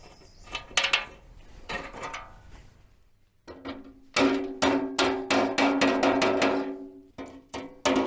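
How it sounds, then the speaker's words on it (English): Sharp metallic taps ring out as the thin aluminum edge of a pontoon boat is hammered straight, first in a few scattered strikes, then in a quick, loud run of closely spaced blows after a short pause. "Unfortunately, with the relatively thin aluminum, it doesn't take a whole lot of tapping to get things to straighten out."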